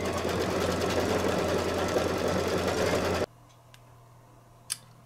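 An embroidery machine stitches a Santa table runner with a loud, rapid, steady mechanical whirr that cuts off abruptly. A hushed room follows, with a few faint ticks and one small knock.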